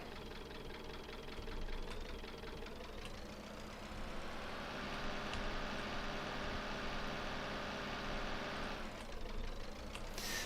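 A small tractor engine in the Farming Simulator 19 video game runs with a steady, gruff knocking drone that shifts slightly in pitch as it works, continuous throughout with no voices.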